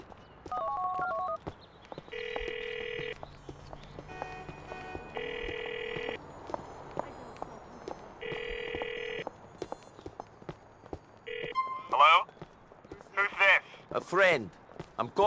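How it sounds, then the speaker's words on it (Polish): Phone call in GTA IV: repeated electronic ringing tones in regular bursts, followed by quick dialing-like beeps and warbling tones near the end, with faint background game sound and occasional voice. "Także dzwonimy do gościa z telefonu, który dostaliśmy i szukamy osoby, która odbierze telefon."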